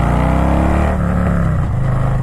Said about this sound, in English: you're just hearing that engine